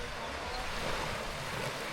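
Sea waves wash steadily on the beach at Boracay in the Philippines, a broad continuous hiss of surf mixed with wind buffeting the microphone, with no distinct breaks.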